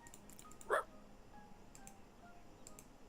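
A dog in the farming video game Staxel lets out one short, sharp bark, faint against quiet background game sound and a few soft clicks.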